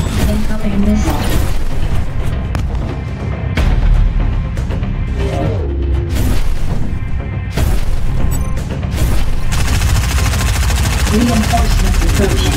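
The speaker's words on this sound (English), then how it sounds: "Warning incoming missile" Incoming missile explosions during a space battle in D.E.E.P.: Battle of Jove, heavy booms and crashes over a dense roar of engines and weapons fire, with a synthetic warning voice repeating over the din.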